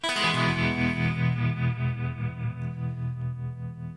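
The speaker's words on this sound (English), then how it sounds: "Spring reverb and tremolo" An electric guitar chord rings out with a wobbling tremolo pulse and a splashy reverb tail, slowly decaying.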